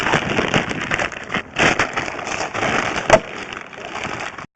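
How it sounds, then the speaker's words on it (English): Heavy rain pours outdoors near a house, a dense, loud, steady hiss with scattered sharper drop impacts, close and uninterrupted by speech. "There's a lot of rain."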